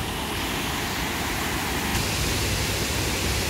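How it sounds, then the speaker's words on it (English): Waterfall on the Akerselva river in Oslo, a dense, steady roar of falling water heard close and loud throughout, with no voices over it. "More waterfalls."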